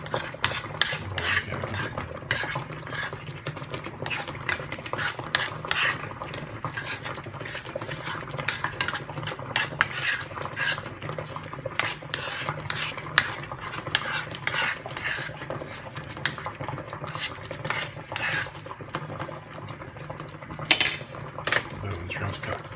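Shrimp are stirred in a metal pan, a utensil scraping and clinking in a rapid, irregular rhythm close by, with faint sizzling beneath and occasional louder clanks.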